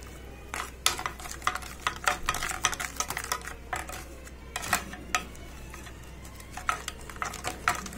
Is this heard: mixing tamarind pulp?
yes